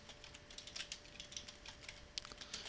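Quiet, close tapping on a computer keyboard while entering code, an irregular string of light key clicks with small bursts and pauses over a faint steady hum.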